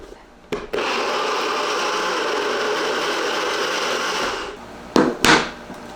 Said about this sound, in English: Let's blend this up.